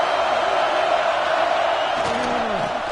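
Steady roar of a football stadium crowd as the home team pins the opponent deep in their own end, a dense wash of cheering with faint whoops rising above it.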